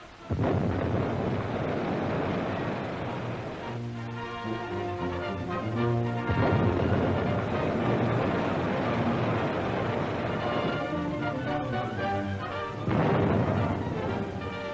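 Y-guns on World War II cutters hurl depth charges at a submarine, sounding as several heavy, rumbling booms that swell and roll over one another, each followed by a lingering low roar.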